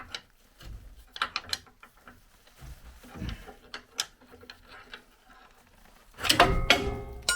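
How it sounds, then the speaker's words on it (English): A pry bar forcing down a thick track bar on a 2017-19 Ford Super Duty during a Readylift 2.5-inch leveling kit install, heard as scattered metallic clanks and ratcheting clicks, ending in a louder burst of scraping clatter as the bar drops. "We'll lower the track bar. That's a big one. Thick. And we should be able to get a pry bar in there,"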